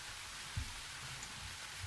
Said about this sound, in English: Unchanging, the rain continued to fall.